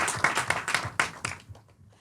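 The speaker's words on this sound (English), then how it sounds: "Okay, clap for them." Audience at a public debate on Mumbai's readiness for the climate crisis claps in a brief, even rhythm, about five distinct claps that taper off and fade into quiet within two seconds.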